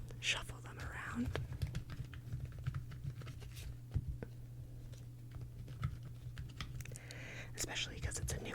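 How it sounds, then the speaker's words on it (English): A stiff, newer tarot deck with gilded edges is shuffled by hand, producing a steady stream of soft, close papery riffles and slides without pause, with no speech over it. "shuffle them around."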